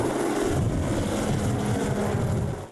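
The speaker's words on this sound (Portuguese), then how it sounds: "os helicópteros passando, salvando todo mundo" Rescue helicopters flying over a flooded river area during search operations make a continuous broad rotor and engine roar, fairly loud and steady for nearly three seconds, fading at the end.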